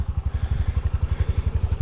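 Honda ATV engine running close by, a steady low, rapidly pulsing chug at idle with light mechanical clatter, heard alone.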